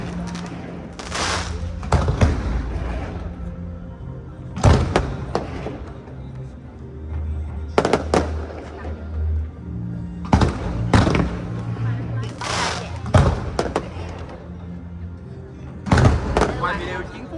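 Fireworks display in Da Nang, Vietnam, with repeated booming bursts every few seconds at a distance and a crowd murmuring throughout, with people talking nearby.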